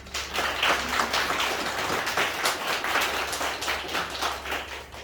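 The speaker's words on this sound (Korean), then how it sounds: "우리 힘내시라고 박수 한번 드립시다." Church congregation at a year-end Sunday worship service clapping together in sustained, dense applause that stays steady at moderate loudness throughout, with no voices standing out.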